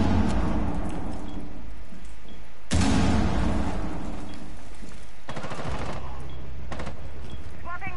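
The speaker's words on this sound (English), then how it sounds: "Throwing frag." A frag grenade thrown during a ranked video game match goes off as a heavy blast, followed by rapid bursts of nearby gunfire and a trailing rumble, all loud and close.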